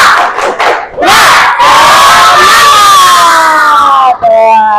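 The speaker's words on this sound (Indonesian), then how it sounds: "Siap, tepuk semangat." A classroom of schoolchildren performs tepuk semangat, a spirit clap chant: a few quick rhythmic claps, then a loud, sustained chorus of young voices shouting together close by, ending in a brief final burst.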